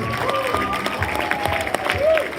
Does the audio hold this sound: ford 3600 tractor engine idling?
no